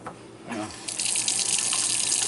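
Cold water runs from a homemade faucet, starting with a gurgle and then settling into a steady, loud, close gush that carries through to the end with no talking.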